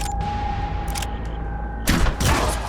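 Borman fires in Mutant Year Zero: Road to Eden, and the shot lands as a loud, close burst of gunfire with a second report just after. A steady game ambience hums underneath.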